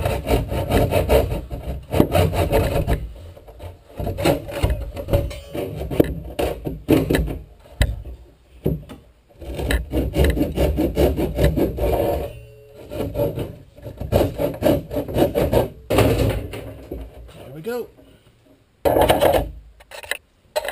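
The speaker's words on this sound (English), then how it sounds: "I'm just going to cut the corners out with the Japanese saw" Japanese hand saw cutting out the corners of a wooden panel for a teardrop trailer build, repeated close rasping strokes in bursts with brief pauses between cuts.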